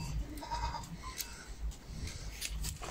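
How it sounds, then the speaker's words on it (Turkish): Goats and their young kids bleat on a highland pasture near Silifke, with several quiet, scattered calls of different pitches over faint background noise and a little distant talk. "Keçilerin yavruları, oğlaklar var."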